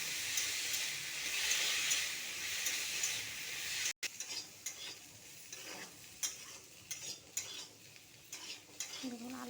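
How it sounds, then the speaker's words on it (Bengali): Potatoes seasoned with salt and turmeric fry in hot oil in a kadai, first as a dense continuous sizzle, then after a brief cut as irregular clattering stirring strokes over quieter frying. "এরপরে আলুটাকে আমি ভালো করে ভেজে নেব।"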